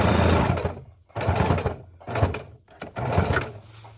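A sewing machine stitches hook-and-loop tape onto a seat belt cover in several short runs, each separated by a brief pause, close and moderately loud with no talking.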